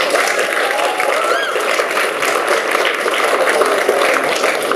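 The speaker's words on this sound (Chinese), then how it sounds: "请给自己掌声。" A large crowd of protesters occupying the Interior Ministry building applauds in a loud, sustained wash of clapping, with some voices mixed in.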